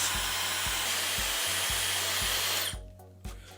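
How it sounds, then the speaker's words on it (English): A hair dryer with a diffuser attached, running on medium heat and speed, roars steadily up close with a faint regular ticking, then cuts off near the end, leaving a short quiet tail. "I'm gonna get my diffuser and I'm actually gonna diffuse my hair."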